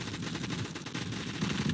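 Gunfire in the Fortnite video game comes as a quiet, rapid burst of repeated shots, evenly spaced and low in level, with no voices.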